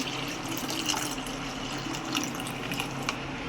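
Water from a small metal vessel splashes and trickles steadily into a cooking pot for pearl millet porridge. It is close and continuous, with a few brighter splashes.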